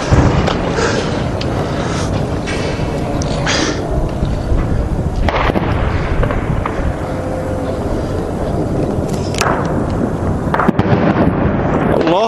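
Heavy artillery shelling pounds the Baba Amr district of Homs, a constant roar of distant explosions and rumbling booms with several sharper blasts standing out, while voices occasionally shout nearby.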